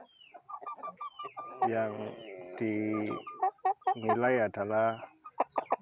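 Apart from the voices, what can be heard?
Pelung chicken crowing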